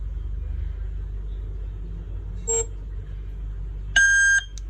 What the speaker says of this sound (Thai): มีเสียงรีเซ็ตแล้วก็ปล่อยนะคะ